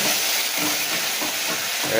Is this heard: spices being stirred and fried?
yes